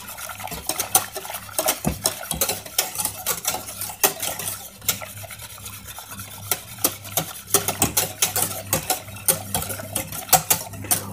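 A spoon scrapes and knocks repeatedly against a saucepan while a sauce is stirred for a truffle croque-monsieur, the rhythmic clinks and scrapes sitting over a low steady hum.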